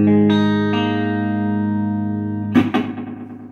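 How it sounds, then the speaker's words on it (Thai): An electric guitar, played through a Laney amp cabinet with a BOSS ME-70 effects unit, rings out as a sustained chord with added notes, then a few distorted strums, loud and reverberant. "เดี๋ยวทดสอบเสียงจากตู้แอมป์ก่อน"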